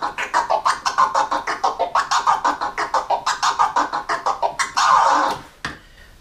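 A DJ drags a vinyl record back and forth while rapidly tapping the crossfader. The result is a long, loud, rhythmic string of chopped scratch bursts that ends in a sustained smear and a brief final cut.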